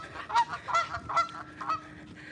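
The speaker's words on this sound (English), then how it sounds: "I ain't trying to fight no geese out here for you" Geese honking outdoors during an afternoon walk, four or five loud, nasal calls in quick succession, close by, with no talking.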